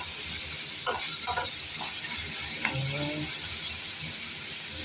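Potatoes and onions sautéing in a pan, a steady sizzling hiss with a few scraping spoon strokes, with no talking.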